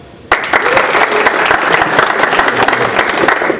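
A comic convention panel audience bursts into applause all at once, loud dense clapping that holds steady without talk over it.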